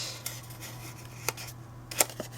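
Scissors trimming a stamped paper hat piece for a Santa gift box, a few sharp crisp snips spaced irregularly over a quiet background, close and clear.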